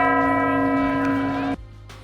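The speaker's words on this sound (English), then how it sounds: "And listen to the bells." Church bells ring out in Krakow, a bright sustained peal that rings for about a second and a half and then cuts off, leaving quieter street ambience.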